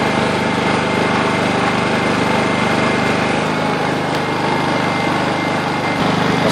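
Close up, a 2000i portable inverter generator runs steadily in eco throttle mode with a light load, producing an even, continuous engine drone and buzz with no speech.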